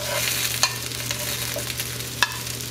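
Tomatoes, onion and jalapeño frying in a pan for salsa give a steady, close sizzle, with a couple of sharp clinks from a utensil stirring.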